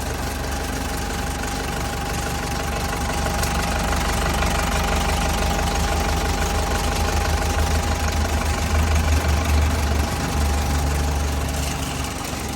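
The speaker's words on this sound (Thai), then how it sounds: "เป็นเครื่องยนต์อีซูซูนะครับ 4BG1 นะครับผม" An Isuzu 4BG1 four-cylinder turbo diesel engine in a TCM L13 wheel loader idles steadily up close, a low rumbling drone with a rhythmic knocking clatter and constant vibration, no voices.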